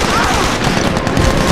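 Continuous gunfire from a SOCOM 4 U.S. Navy SEALs third-person shooter on PS3, loud, dense bursts of rifle and machine-gun fire filling the whole moment with no letup.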